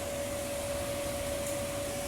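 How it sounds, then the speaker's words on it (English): A vacuum cleaner sucks up water from a flooded bounce house combo waterslide, giving a steady, unbroken whine and roar at moderate level with a constant high tone running throughout. "you'll want to vacuum all this up"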